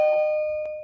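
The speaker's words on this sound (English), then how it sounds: "Doorbell." A single doorbell chime rings out clearly, a sustained bell tone that fades slowly, with no voices heard.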